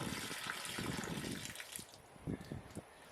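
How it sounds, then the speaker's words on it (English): Water drained from an RV water heater pours out in a soft, faint splashing trickle that tapers to a few drips. "let me pour some of this out so you can see."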